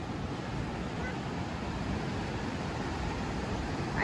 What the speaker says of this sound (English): The ocean is so loud.